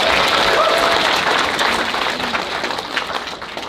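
A crowd applauds at a college animation premiere event, and the clapping holds loud and sustained throughout, thinning slightly near the end with a few whoops.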